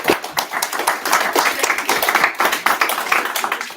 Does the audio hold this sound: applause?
yes